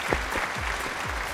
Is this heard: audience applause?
yes